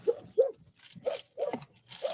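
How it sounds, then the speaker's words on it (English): Dogs bark indoors at a home front door during a delivery, five or six short, sharp barks in an uneven rhythm, fairly faint and somewhat distant. "Sorry about the dogs."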